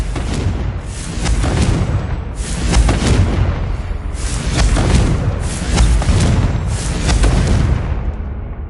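Confringo fire spell explosions in the Hogwarts Legacy video game: a series of loud, deep booming blasts, roughly one per second, each with a fiery crackling tail, filling the whole stretch.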